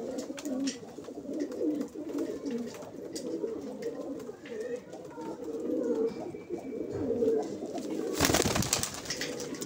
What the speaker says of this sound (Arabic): هذا الحمام الرسوس القديمة العراقية